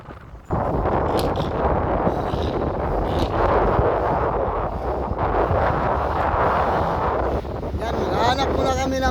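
Strong wind at sea beside an island dive spot buffets the microphone in a loud, continuous roar with gusty surges throughout.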